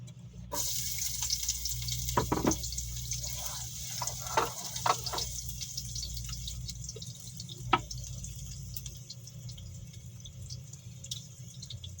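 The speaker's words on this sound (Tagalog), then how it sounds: "Gisa-gisa natin yung bawang." Garlic sautéing in a pan gives a continuous close hiss and sizzle, with occasional scrapes and clicks of stirring and utensils throughout.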